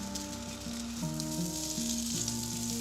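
Meatballs browning in a frying pan give a steady, soft sizzle that runs unbroken throughout, with a sustained tonal hum underneath and no voices.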